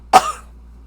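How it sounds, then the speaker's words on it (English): A single sharp cough from a person, close and fairly loud, with a quick burst that fades within half a second into a quiet room. "Excuse me, I have to cough."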